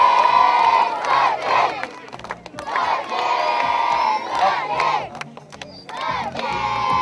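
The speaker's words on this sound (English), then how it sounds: "Let's keep that applause going." A large crowd cheers and shouts in loud, sustained waves at the unveiling of a Bat of Honour for Sachin Tendulkar in Bandra, Mumbai, with excited voices rising and dipping throughout.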